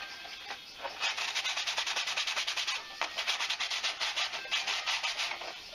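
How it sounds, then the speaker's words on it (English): An abrasive pad scrubs fiberglass clone trooper armor in quick, steady back-and-forth strokes, a close, hissy rasp with a brief pause and no voices. "Any areas you think might have sharp pieces, just give it a good rub down."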